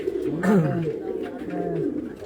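Pigeons coo in soft, throaty repeated calls, fairly close on a rooftop, over a background of low murmuring voices and ambient noise.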